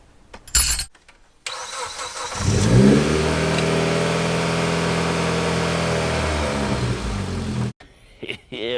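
A car engine cranks and catches, then roars up in a rev before settling into a steady, loud idle; brief clicks come before and after.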